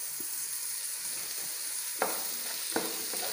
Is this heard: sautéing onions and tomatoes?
yes